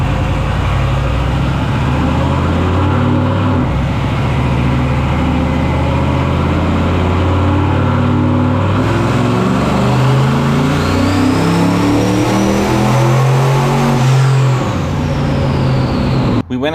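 Carbureted turbocharged Mopar 361 big block on pump gas roars on a dyno, a loud sustained rev that climbs steadily in pitch and holds near full throttle before cutting off abruptly at the end.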